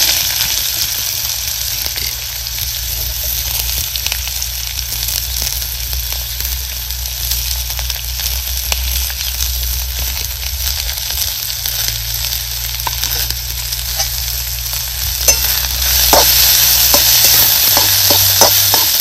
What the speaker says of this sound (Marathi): आता तेल गरम झाले, त्यात आपल्याला घ्यायचा आहे कांदा भाजून